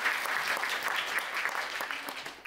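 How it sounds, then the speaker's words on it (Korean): An audience at a bookstore lecture on the Korean economy applauds, a brief burst of dense, steady clapping that fills the room. "박수 한번 부탁드려요"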